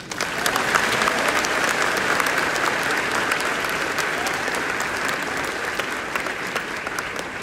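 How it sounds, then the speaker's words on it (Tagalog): Loud, sustained applause from a large crowd at a college commencement ceremony in Cavite, a dense steady roar of clapping lasting several seconds with no speech over it. "ang pinakamalakas na palakpak sa lahat"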